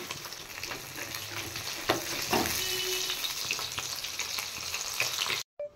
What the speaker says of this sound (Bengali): এদিকে মাছ ভাজার জন্য তেল গরম হয়ে গেছে। এবার আমি মাছগুলো ভেজে নেব।